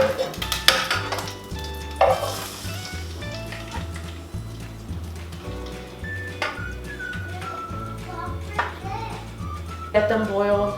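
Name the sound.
beans added to hot pan with chiles de árbol, sizzling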